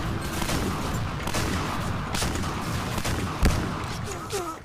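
Gunfire in the online shooter game Point Blank crackles in dense, steady volleys, with several players talking excitedly over the shooting.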